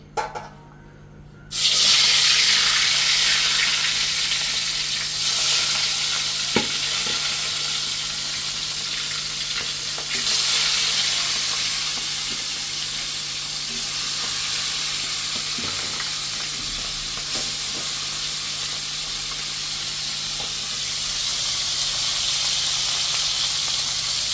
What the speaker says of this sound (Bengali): এদিকে মাছটাও ভাজা হোক।